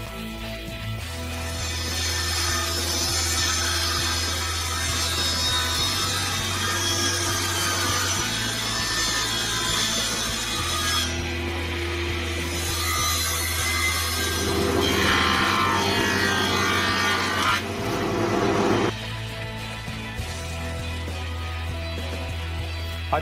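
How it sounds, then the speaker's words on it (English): Wooden beams are sawn lengthwise to 42 millimeters wide on a power saw, a long continuous cutting roar over a steady motor hum, with the tone shifting as the blade passes through the wood, loud and without talk. "then I cut the beams to a width of 42 millimeters."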